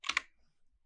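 A computer keyboard gives a quick pair of sharp, close key clicks while someone types code, then it goes nearly silent.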